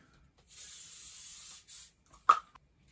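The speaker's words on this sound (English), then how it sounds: "That's just some canola oil spray." A short hissing burst of canola oil spray from an aerosol can into a stainless steel bowl, paused briefly then resumed, followed by a light clink of metal.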